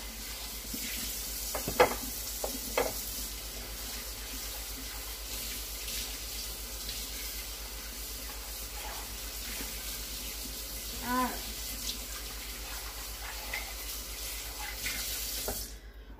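A kitchen tap runs steadily while a bowl is washed beneath it, with a few faint knocks and clinks against the constant flow.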